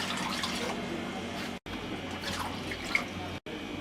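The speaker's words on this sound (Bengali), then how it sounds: "দিয়ে দিচ্ছি পরিমাণ মতো পানি।" Water pours steadily into a cooking pot to boil jackfruit seeds in a home kitchen, a close, even splashing rush broken by two brief pauses.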